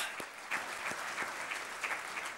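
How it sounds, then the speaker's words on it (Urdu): A hall audience keeps up sustained applause at a Pakistani ceremony honouring a martyr's son before the Prime Minister, a loud, even roar of clapping with a few sharper claps standing out nearby. "مزید تالیاں لیڈیز اینڈ جینٹلمین."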